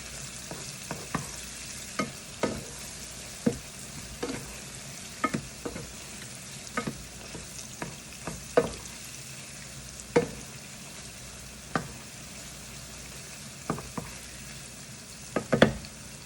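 A spoon stirs apples frying in a pan with cognac, walnuts and raisins, giving regular scraping strokes over a continuous soft sizzle, close and moderately loud.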